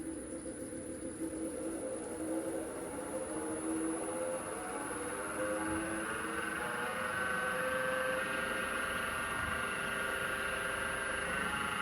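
A pen kit blank mounted on a wood lathe spins up and runs steadily at about 2,000 RPM, a continuous droning hum with whining tonal bands holding level throughout, with no talking over it.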